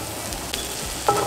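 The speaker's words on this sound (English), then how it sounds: "so I'm going to fry the garlic" Garlic frying in a pan for a vegan pea dal curry, a soft steady sizzle with a few stirring scrapes and a brief clink near the end, heard alone.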